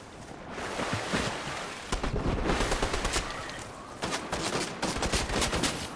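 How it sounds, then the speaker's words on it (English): Rapid bursts of automatic gunfire from teammates in a Fortnite trios match crackle almost continuously, with denser volleys in several clusters, loud and close throughout. "Well, I hear you guys' shots"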